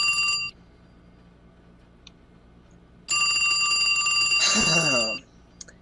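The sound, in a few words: telephones ringing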